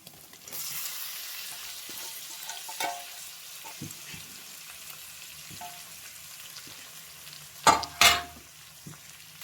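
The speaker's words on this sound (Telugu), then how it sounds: "ఇక బాగా కలపాలి మంచిగా, అరగంట గంట. మంచిగా ఫ్రై కావాలి ఇది." Goat tripe (boti) fries and is stirred in a pan, a soft continuous sizzle with scraping strokes and a couple of sharp, loud pops near the end.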